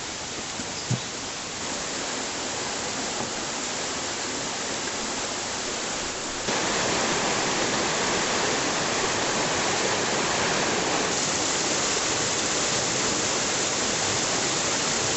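Steady roaring waterfall at Stock Ghyll Falls near Ambleside in the Lake District, a dense continuous rush of falling water that grows louder partway through, with no voices.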